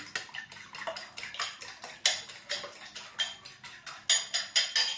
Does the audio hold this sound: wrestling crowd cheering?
no